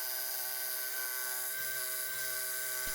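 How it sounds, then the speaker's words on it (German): An Einhell TE-JS 18 cordless jigsaw runs steadily while cutting curves, a loud continuous high whine with dense buzzing harmonics and a few faint knocks from the blade in the workpiece, close and uninterrupted. "Viel eher sollte man mit Stichsägen doch Kurvenschnitte machen."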